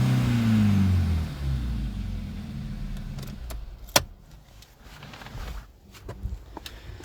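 A white 2011 Volkswagen Polo GTI 1.4 TSI with DSG gearbox, engine note loud and rising at first, then settling to a quieter idle with a few clicks and knocks from the car.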